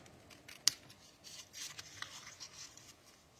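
Scissors cutting the tail off a paper bunny box, with one sharp snip followed by quieter rustling paper and soft cutting sounds, close and faint, with no talking.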